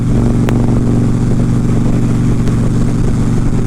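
An Indian motorcycle engine with a touchy sport-mode throttle, running loud and close as a steady, rumbling revving, with no talk over it.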